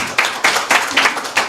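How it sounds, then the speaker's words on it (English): A congregation gives a short round of applause, a brief burst of clapping in a few swelling waves that is close and fairly loud. "A round of applause."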